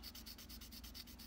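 A pink nail buffer, the medium-grit stage after a coarse file, is rubbed briskly back and forth across a fingernail to shape it for classical guitar playing. The scratchy strokes come in a steady, rapid rhythm, close and soft, with no talking.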